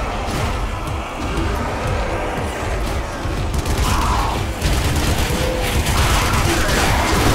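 An explosive detonating in the zombie shooter Zombie Army Trilogy, set in Berlin, giving a loud, dense rumble with mechanical rattling and scattered crackles that rolls on for several seconds with no clear separate blasts.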